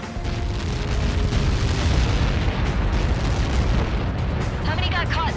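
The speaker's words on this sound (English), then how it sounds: "How many got caught in that explosion?" A missile impact explosion in the video game Ace Combat 7 rumbles as a loud, sustained roar of low blast noise and debris that rolls on for several seconds before trailing off.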